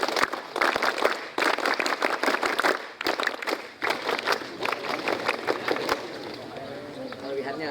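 Pesantren students perform the Scout clap (Tepuk Pramuka) at a Scout Day ceremony: loud, rhythmic group clapping in patterned bursts separated by short pauses, with voices calling along between and over the claps.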